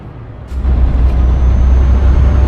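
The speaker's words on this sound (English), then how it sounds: "this the train foundry truck even sounds like a train" A truck from a train foundry starts up with a burst of air release, then settles into a loud, deep engine rumble heard close by, its low drone somewhat like a train.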